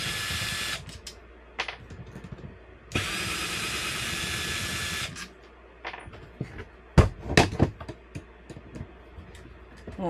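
Power screwdriver removing four screws from a Senco SLP20 nail gun during a repair, two sustained high whirring runs followed by quieter clicks and knocks as parts are handled, no talking.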